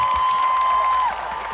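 Audience applause at a cosplay contest in Strasbourg, a brief wash of clapping with a sustained tone over it that fades as the clapping continues.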